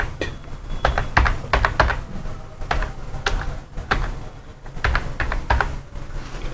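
Fingers tapping out an Excel formula on a computer keyboard, quick irregular clusters of crisp keystrokes with short pauses between bursts, close and fairly loud.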